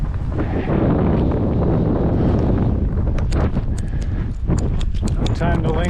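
Strong wind buffets the microphone on an exposed mountain summit, a loud continuous roar and rumble with gusty flapping and rattling bursts in the second half, close and dominating throughout.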